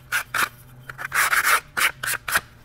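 A piece of rail is deburred with a file, in short rhythmic rasping strokes, about nine quick passes in under three seconds, close and clear with no talk.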